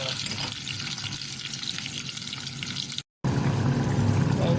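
Ginger and onion frying in a pan with salt, a dense continuous sizzle with stirring scrapes and a brief dropout near the end, no speech.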